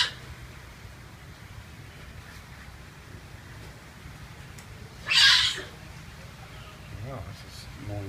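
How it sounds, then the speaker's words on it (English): A giant otter at the Jacksonville Zoo gives a single short, high squeal that stands out briefly against a quiet background of faint ambient noise. "What is that noise? That's the otters."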